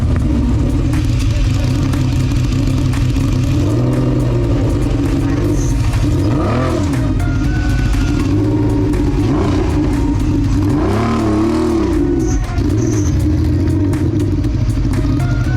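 A wrecked Lamborghini engine runs loudly close by, rising and falling in several sharp revs over a steady idle.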